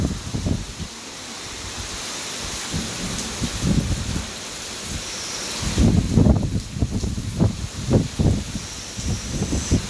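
Heavy rain pours steadily with a dense, hissing roar, broken by low gusty rumbles that swell in the second half; no voices.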